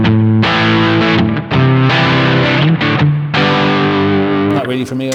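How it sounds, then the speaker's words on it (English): A 1968 Gibson 330 electric guitar on its neck pickup through a distorted amp, loud sustained chords and notes ringing out in a rough, crunchy tone, with brief gaps between phrases and the playing close up. "Neck pickup now on a dirty sound."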